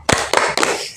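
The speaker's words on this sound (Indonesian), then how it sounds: "Oke, kita coba ya. Tepuk semangat." A group of people at a guidance session claps a class cheer clap in three loud, sharp bursts, evenly spaced and close.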